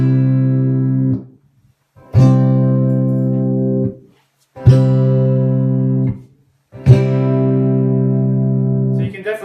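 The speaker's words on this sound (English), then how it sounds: "Let's hear what the strumming sounds like." A harpejji strummed in four sustained chords, each ringing for about two seconds and then cut off before the next, loud and close with a bright, full tone.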